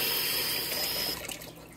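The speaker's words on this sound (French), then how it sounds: "je vais mettre de l'eau à place quand même" Tap water gushes loudly into a rock tumbler barrel for about a second, then cuts off, leaving a few trailing splashes and drips.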